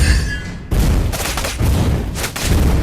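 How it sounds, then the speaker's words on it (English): Turret being destroyed in the mobile game Mobile Legends: Bang Bang, a dense burst of explosive crashing and booming that starts abruptly after a brief lull and rolls on in loud repeated surges. "Your team destroyed the turret."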